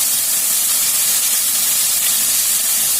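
Water poured onto mustard paste in a hot pan sets off a loud, bright, steady hiss of steam and sizzle, close and unbroken throughout.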